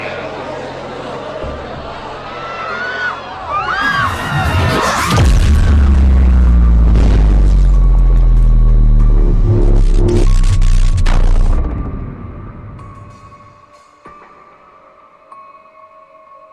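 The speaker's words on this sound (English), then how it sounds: "the bomb that was not supposed to detonate somehow exploded" Bomb explosion in the video game Cyber Manhunt 2, a loud deep boom that swells into a long rumbling, throbbing roar lasting several seconds before cutting off into a faint electronic hum.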